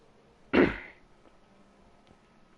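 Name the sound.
coughing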